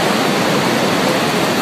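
Iguazu Falls in Brazil roars as a constant, loud, broadband rush of falling water, heard up close and alone with no voices.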